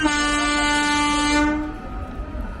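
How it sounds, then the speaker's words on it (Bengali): Train arriving at Sheoraphuli station sounds a loud, sustained horn blast that cuts off after about a second and a half, leaving the rumble of the approaching train. "ট্রেন ঢুকছে।"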